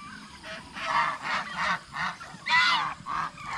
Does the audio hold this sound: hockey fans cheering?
no